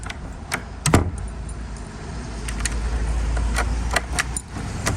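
A set of two new keys jangles in several short metallic bursts, fairly close, during a sash-lock replacement job in a house.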